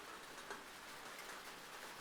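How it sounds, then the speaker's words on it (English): Rain falling on copper blocks in Minecraft with the Cool Rain mod, a steady, soft patter of drops that holds evenly across the moment with no voices. "you can hear when the rain hits the copper"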